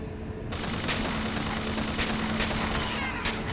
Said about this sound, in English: the turret is doing something. There you go, shooting that guy in the back